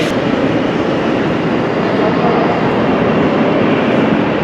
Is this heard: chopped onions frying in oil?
no